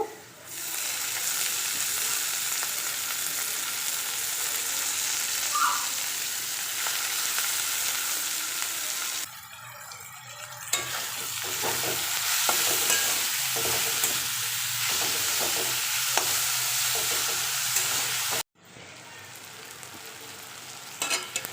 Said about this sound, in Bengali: এবার এখানে দিয়ে দেবো মোচাটা দিয়ে একটু নাড়াচাড়া করে নেব